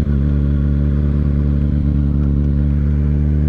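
A 2023 Kawasaki Ninja ZX6R (636) being ridden, its engine holding a steady, loud, close drone with a strong low hum and slight rises in pitch.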